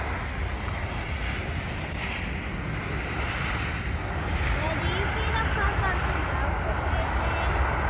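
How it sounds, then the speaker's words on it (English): Airplanes land at an airport, a steady broad roar of aircraft engines rolling on at a distance, with voices talking now and then underneath. "watched the planes land for a while"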